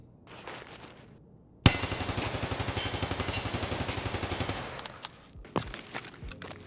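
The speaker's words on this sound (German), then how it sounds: "Hier auch einmal der Recoil von der Waffe mit geladenem BP-Magazin." A 7.62 rifle loaded with BP ammunition in Escape from Tarkov fires a sustained full-auto burst of about three seconds, sharp evenly spaced shots close and loud, followed by a few metallic handling clicks.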